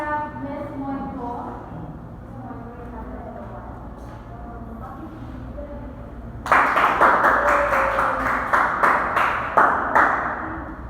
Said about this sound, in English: A round of applause for Mr. Lamparas.